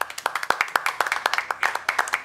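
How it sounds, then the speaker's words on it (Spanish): A small group claps for the chef in a seafood restaurant, quick uneven hand claps close by, moderately loud, with no talking over them. "Un aplauso."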